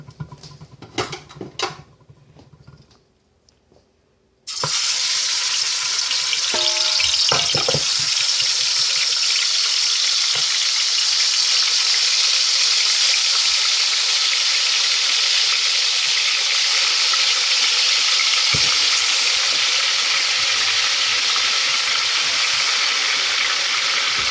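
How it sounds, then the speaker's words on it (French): Meat searing in a pot at the start of Haitian soup joumou: a few soft clinks, then a loud, steady, close-up sizzle that holds without a break to the end. "C'est toujours de faire saisir votre viande."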